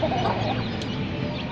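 Jet black aseel rooster clucking close by in a farmyard setting, a steady run of low throaty chicken sounds with no talk over them.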